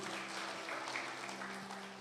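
A church congregation applauds during a sermon, a steady, faint, distant patter of clapping lasting a couple of seconds.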